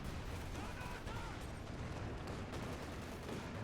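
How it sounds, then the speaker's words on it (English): Artillery fire in the real-time strategy game Company of Heroes 2, a dense, steady rumble of distant blasts and battle noise, fairly faint throughout. "Got some artillery from the Panzer"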